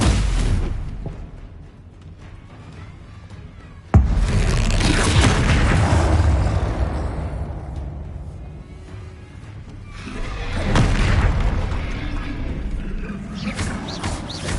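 Confringo explosive spell blasts in the video game Hogwarts Legacy: a sharp crack sets off a heavy, rumbling boom, and further loud, booming bursts and swells of effects follow.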